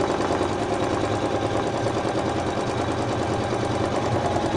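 An embroidery machine stitches out a Sue Bonnet Sue design with thread, a dense, even mechanical chatter running loud and unbroken from start to finish with no voices.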